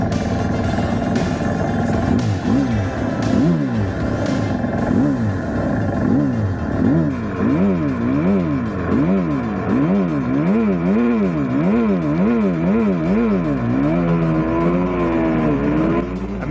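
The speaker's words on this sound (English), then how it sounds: "I jumped on the 150R, and we're going to have our first race here" A Honda CRF150R dirt bike races on a wet track, its engine loud and close, revving up and down in rapid repeated waves as it shifts and accelerates, with other bikes droning along.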